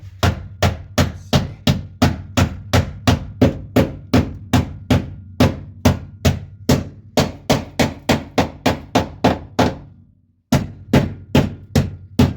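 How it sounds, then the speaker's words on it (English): A hammer pounding sheet metal over on a floor pan of a 1979 Camaro Z28: loud, evenly spaced ringing blows in a fast steady rhythm, broken by one short pause before the strikes resume. "I'm going to try to pound it over without cutting it"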